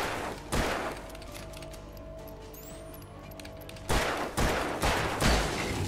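Gunshots in Alan Wake Remastered: a single loud shot, a quieter stretch of game ambience, then a cluster of three or four sharp blasts close together near the end.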